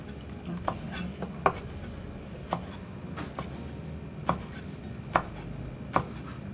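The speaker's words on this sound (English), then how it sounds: "Let's do the dill. okay, if you're cutting like me, it won't be a quick recipe" Dill chopped with a knife on a cutting board, a series of sharp, irregular knocks over a soft background, fairly quiet and close, with no talking.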